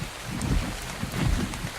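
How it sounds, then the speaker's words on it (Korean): Rain falls in a survival game world with dinosaurs, a short burst of hissing rainfall over low rumbling gusts that swell twice, moderately loud and alone. "마침 비가 오네요"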